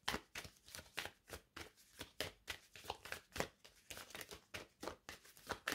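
Tarot cards being shuffled by hand, a quiet, close, rhythmic series of riffling swishes, about two per second, with no voice.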